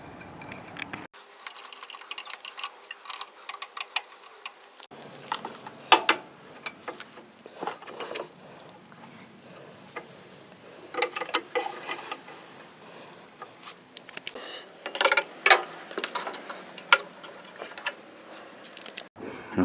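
A 7/16 ratchet wrench loosens bolts on a snow blower, making intermittent runs of quick, close metallic clicking separated by short pauses.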